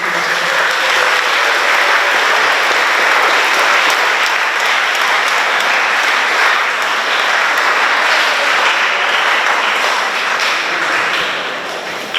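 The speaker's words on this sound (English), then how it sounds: "Let's give them a round of applause and welcome them." A school audience at an Education Week event gives long, loud, sustained applause to welcome teachers. The clapping stays dense and even for about twelve seconds before tapering slightly.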